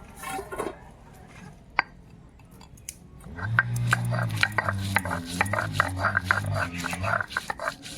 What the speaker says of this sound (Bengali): এবার আদা রসুন বেটে নেবো